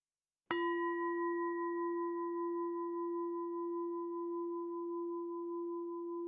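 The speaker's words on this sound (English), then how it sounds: "I am going to invite the bells, and I would like you to focus on the sound of the bells" A single meditation bell is struck once and rings out clear and sustained, its tone fading very slowly over several seconds in otherwise quiet surroundings.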